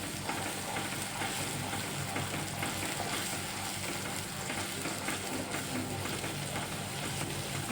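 Onion gravy sautéing and being stirred in a pan while making a corn curry, a steady close sizzle with faint scraping of the stirring, no voices.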